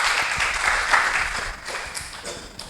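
An audience applauds a speaker at an entrepreneurship talk, with steady close clapping that gradually thins out, leaving a few scattered claps at the end.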